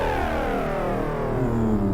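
A gritty, grimy synth tone from a Synclavier V preset sustains with a smeared, gliding trail of shifting harmonics, steady and close with no voices over it.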